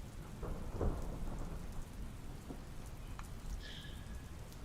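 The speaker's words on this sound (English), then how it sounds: "There is a storm brewing for tonight." A thunderstorm during a stage play, with steady heavy rain hissing on surfaces and low rumbles of thunder rolling underneath, continuous and fairly loud throughout.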